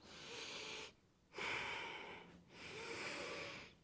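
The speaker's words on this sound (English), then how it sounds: "So wherever you are, let's do 10 deep breaths." Slow, deep yoga breaths, each one a long airy inhale or exhale through the nose with a slight wheezy resistance, separated by short quiet pauses, close and soft with no talking.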